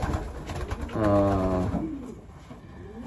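A single racing pigeon gives a soft, close coo lasting about a second, with a low rumbling drone and faint background noise around it.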